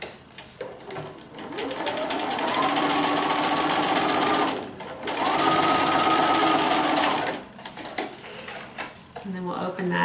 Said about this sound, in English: I'm going to sew a 1/4 inch seam allowance down the side.